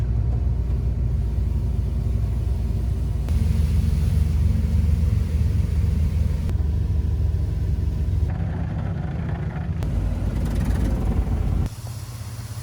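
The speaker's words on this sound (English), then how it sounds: "there's some kind of a misfire or something in the motor" A van's engine idles steadily with a misfire in the motor, a continuous low rumble with uneven pulsing, heard close and alone with no talking.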